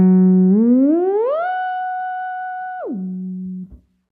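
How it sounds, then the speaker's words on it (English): A sustained guitar note runs through a Fractal whammy pitch-shift effect, gliding smoothly from an octave down up to an octave above. It holds there, then drops sharply back down before cutting off, loud and clean with no talking. "We also have our advanced whammy setting where you can start and stop at any pitch interval."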